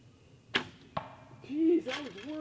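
Two sharp arrow releases from a bow on a 3D archery range, the first at about half a second and the second just under a second later, followed by quiet voices murmuring in the background.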